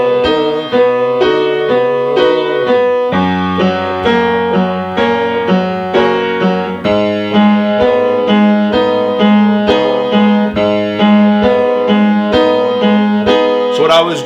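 Guitar picking the harmony triad with the octave added on top, a steady arpeggiated pattern of ringing notes played close and loud for the whole stretch, with no voice over it.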